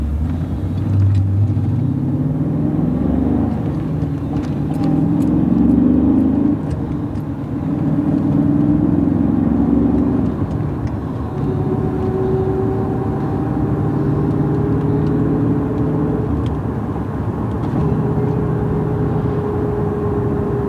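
A 2005 Cadillac CTS-V engine pulls hard while driving, a deep, loud, close rumble that swells and eases through gear changes, heard from inside the car with no talking.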